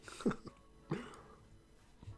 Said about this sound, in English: Full on cough ASMR.